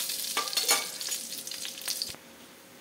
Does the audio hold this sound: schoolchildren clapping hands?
no